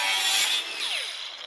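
A power tool saws through the metal body of a rotten BMW E46 M3, a loud, close, high-pitched cutting whine that dips slightly partway through, with no voices.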